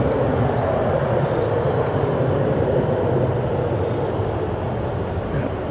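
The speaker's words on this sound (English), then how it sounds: "it's a relatively quiet plane as it takes off compared to some of the others we've heard" An Embraer 175 jet airliner takes off at Austin-Bergstrom International Airport, heard as a steady, broad engine roar with a low rumble that stays even and fairly loud for the whole stretch.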